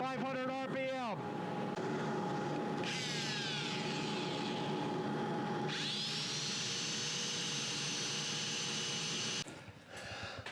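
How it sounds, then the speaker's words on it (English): A workshop dust collector and air filter hum and roar steadily beside a woodturning lathe turning a hollow form at about 500 RPM, a continuous close machine drone with brief shifts in tone. "Dust collector. Air filter. About 500 RPM."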